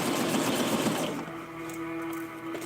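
A sewing machine stitches Velcro onto a Ken doll outfit, first with a busy, rapid mechanical whir, then settling into a quieter, steady motor hum with a sustained tone.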